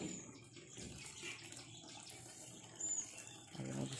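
Water runs steadily in a soft, faint rushing stream on a Mayapur journey, continuous and close with no talk.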